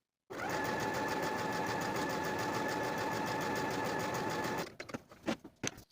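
A sewing machine running long basting stitches through knit fabric, a fast, loud, continuous whirring hum for about four seconds that stops abruptly, followed by a few soft clicks and handling sounds.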